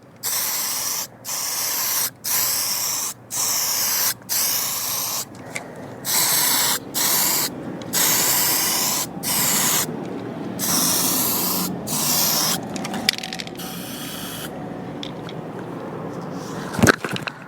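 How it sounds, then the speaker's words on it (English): Primer spray-painted onto a car bumper in a series of bursts, each a loud steady hiss lasting roughly a second, separated by short pauses, with longer continuous passes later and a sharp click near the end. "So I'll put 3 coats of primer on there, the nice full coats."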